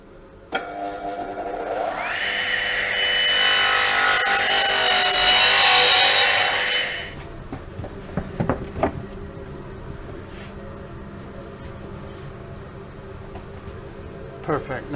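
A hand saw cutting timber French cleats to length, a loud sustained rasping stroke up close for several seconds, followed by scattered knocks and handling sounds of wood.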